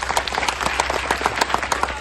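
An audience at a free Marathi film screening claps for actor Amey Wagh in a short burst of dense, lively applause.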